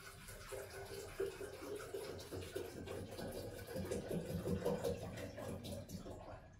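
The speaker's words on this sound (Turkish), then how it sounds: "Doğal çeşme suyunu dolduruyorum." Water from a natural outdoor fountain splashes and gurgles into a container being filled, a continuous moderately faint pouring with a voice murmuring softly underneath.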